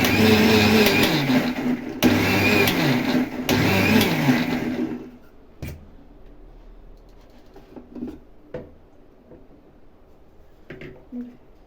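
A kitchen mixer blends avocado with milk in a loud steady whir that is cut by short pauses, then switches off at about five seconds, leaving only faint clicks and handling noises.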